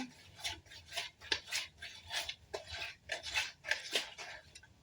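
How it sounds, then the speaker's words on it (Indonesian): A homemade liquid dish soap mixture is stirred in a container, with rhythmic scraping strokes repeating roughly twice a second, close and fairly quiet, with no voices. "kita aduk sampai tercampur rata"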